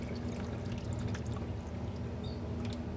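Water runs and pours steadily while long-grain basmati rice is washed, a dense, even wash of liquid with a few faint drips and clinks on top and no voices.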